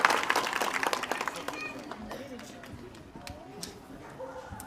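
A crowd at a political rally in Phaltan claps to welcome a guest onto the stage, dense loud applause fading into scattered claps, with a voice speaking over the room.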